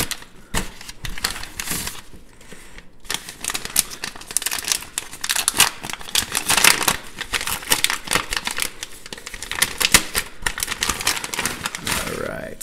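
A pen subscription box is opened up close, with continuous crinkling and rustling of packaging paper and plastic, occasional tearing and sharp snaps, fairly loud throughout.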